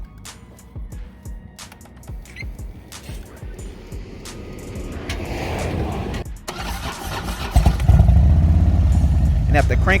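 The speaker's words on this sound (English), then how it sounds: "after cranking the bike and getting it started, we pushed it to the nearest truck stop to safety." Motorcycle on a roadside at night after a jump start, the starter cranking in short bursts before the engine catches and settles into a loud running rumble, with voices talking over it.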